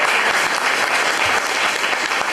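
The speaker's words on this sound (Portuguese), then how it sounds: "Dá uma salva de palmas para Jesus." Congregation clapping for Jesus at a Portuguese-language church service, dense continuous applause from a large crowd, loud and even from start to finish.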